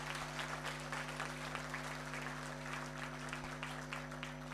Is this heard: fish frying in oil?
no